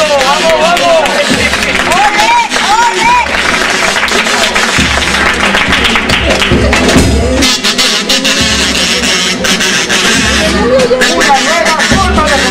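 A street carnival chirigota audience in Cádiz claps loudly and steadily with crowd chatter, while voices call out and sing over the applause.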